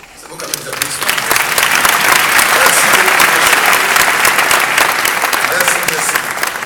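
A large audience applauds at a prime minister's public address, a loud, dense wash of clapping that swells up within the first second and holds steady for several seconds.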